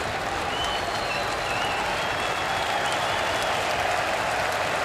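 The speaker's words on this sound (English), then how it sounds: "Getting some big applause as he made his way down to the ground" A large crowd at an Australia versus Pakistan one-day final cricket match applauding a player walking to the boundary, a broad, steady wash of distant clapping that stays constant throughout.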